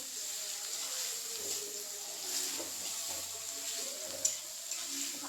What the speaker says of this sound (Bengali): সাথে পেঁয়াজ দিয়ে দিচ্ছি। এটাকে একটু ভালো করে ভেজে নেব।